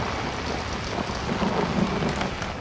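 Rain in the horror video game Outlast, a steady heavy downpour with a low rumble underneath, no voices.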